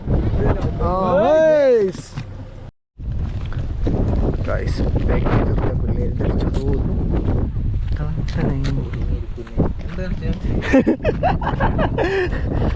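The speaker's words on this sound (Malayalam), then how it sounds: "ഒരു രക്ഷയില്ലാത്ത കാറ്റാണ് അമ്മാതിരി കാറ്റ്" Strong wind roars and buffets the microphone almost continuously at the Ramakkalmedu hilltop, with people talking and shouting over the gusts.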